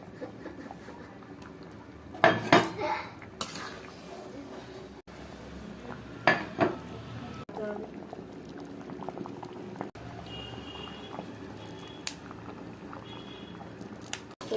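Vegetable khichuri bubbles and is stirred in a cooking pot, with a low simmering burble and a few louder scraping, sloshing bursts of stirring spaced apart.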